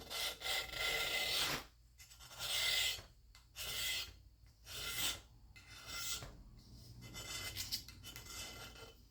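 Heavy rust is scraped off the sole of a Stanley Bailey No. 7 hand plane in a series of harsh, rasping strokes, about six passes separated by short pauses, close and loud.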